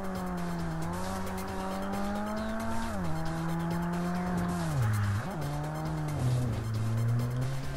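Engine of a Mercedes AMG 190E 2.5 Evo 2 in the racing game Tokyo Xtreme Racer Drift 2, revving steadily with pitch dropping at gear changes, tires squealing through drifts, loud and continuous.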